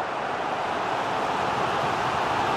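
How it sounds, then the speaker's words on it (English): Football stadium crowd in the FIFA 23 video game, Leicester City vs Tottenham in the Premier League, a steady dense roar with no breaks, loud and continuous throughout. "Well, just listen to the crowd."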